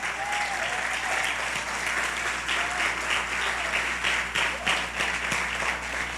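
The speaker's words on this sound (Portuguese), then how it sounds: "Você pode dar um aplauso a ele por isso?" A church congregation breaks into sustained applause, dense clapping filling the space steadily with a few cheers rising above it.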